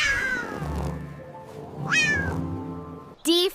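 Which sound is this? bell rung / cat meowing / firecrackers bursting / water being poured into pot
cat meowing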